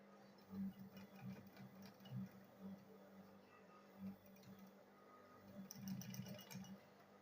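Sewing machine stitching a school bag, heard as quiet bursts of rapid mechanical whirring separated by short pauses, fairly close but low in level.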